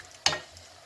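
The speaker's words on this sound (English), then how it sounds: "Okay, then I'll just stir it gently, mix it together, stir it together, just mix," A single brief stir of tilapia fish in onion sauce in a hot pan: one quick scraping swish with a light sizzle trailing off.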